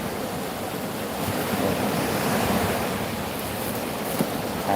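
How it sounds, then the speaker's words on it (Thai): Sea wind blows steadily across the shore as waves wash in, a broad, continuous roar of surf and gusting air with no voices. "ลมทะเล พัดมา"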